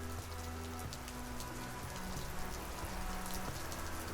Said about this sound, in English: the soft sound of rain outside through the kind of barred windows begins